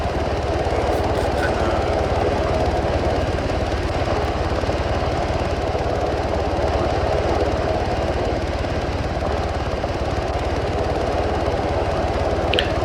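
A helicopter in a military video game mission runs continuously up close, a loud steady engine and rotor drone that persists throughout without pause.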